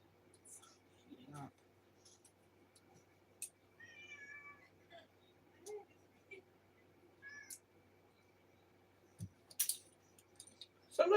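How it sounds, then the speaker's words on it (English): A cat meows a few times, soft and faint, scattered across a quiet room with sparse clicks and a voice speaking now and then. "This is 30 minutes of funny cat videos."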